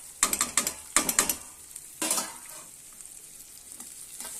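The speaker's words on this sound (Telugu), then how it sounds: "బెండకాయ పీసెస్ అయితే ముక్కలో వేసుకోవాలి వేసుకొని బాగా కలుపుకోవాలండి" Thinly sliced okra pieces are stirred in a frying pan, with rapid scraping clatters in quick bursts over a light sizzle, then a quieter stretch of frying.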